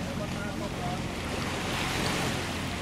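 Steady wind and wave wash around a boat at sea near Tablas Island in the Philippines, a dense continuous rush with no clear engine note, loud and close.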